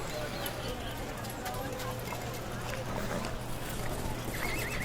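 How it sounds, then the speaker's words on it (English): Horses neigh and whinny with clip-clopping hooves in a song recording evoking covered wagons, the sounds set low within a dense music mix. "Covered wagons, horses."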